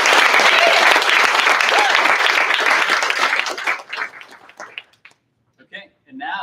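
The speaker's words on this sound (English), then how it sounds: "let's just give one big round of applause for all of our graduates" A graduation crowd breaks into loud, dense applause for the graduates, holding strong before thinning to scattered claps and fading out, with a few voices and cheers mixed in.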